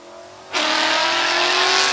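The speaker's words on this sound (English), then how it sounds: "And yet the Jeep gets there first, running 7:27 in the 8th mile at 100 miles an hour." A turbocharged Jeep Cherokee launches down a drag strip at Drag Week, its engine bursting from a lower idle into a loud sustained roar that holds strong and close to the end.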